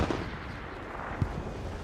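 Distant booms of artillery fire in the WWII shooter Hell Let Loose during a competitive match, a low rumbling backdrop with a sharper thud partway through.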